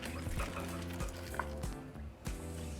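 Chili peppers, cilantro and onions being stirred in a pot for Mexican beef, bean and hominy soup, soft scraping and clinking of a utensil against the pot with a light sizzle underneath.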